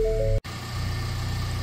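A Ford Bronco's engine cuts out for a split second, then comes back and settles into a steady, close, droning idle with no talking.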